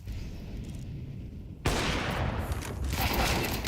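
Dense rapid gunfire from a Counter-Strike esports match at BLAST Open Rotterdam, a steady bed of shots that jumps sharply louder midway and stays intense to the end, with no talk over it.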